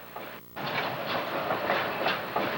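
A passenger train, the Montrealer, rolls past at Brattleboro, Vermont, with a steady close rumble and rhythmic clickety-clack of wagons over the rails after a brief quieter moment at the start.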